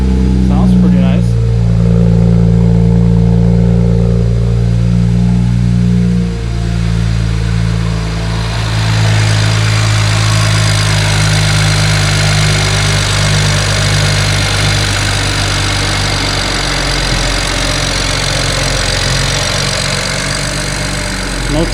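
A BMW 335 with the N54 engine idles close by in a steady, deep rumble that changes texture partway through, with someone talking over it.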